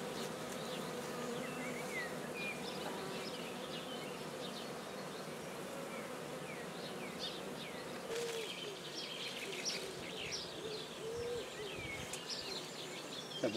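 A dense, steady drone of many honeybees humming together inside a hive, close and continuous, with faint chirps of birds in the background.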